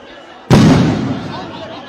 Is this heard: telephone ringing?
no